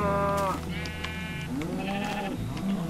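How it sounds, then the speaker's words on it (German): Several sheep bleat in turn in Minecraft, wavering nasal cries, with someone talking underneath. "Schafe."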